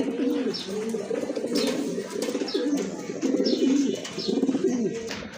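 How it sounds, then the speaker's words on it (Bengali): Pigeons coo repeatedly in low, rolling phrases close by, with faint chirps from other birds in the background, at a pigeon sale. "আরেক জোড়া কবুতর কোয়ালিটি ফুল কবুতর"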